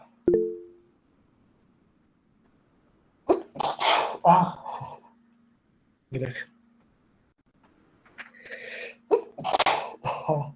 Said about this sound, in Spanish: Me dio un ataque de estornudos.